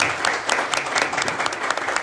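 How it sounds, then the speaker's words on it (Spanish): Worshippers in a church service give a strong round of applause to the Lord, brisk and dense clapping from many people with some sharper individual claps standing out, close and loud throughout. "Y va a dar aplauso de la fuerte al Señor."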